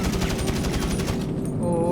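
Rapid automatic AK-47 fire in GTA V, a fast even burst of shots for over a second, then cut short under light game noise.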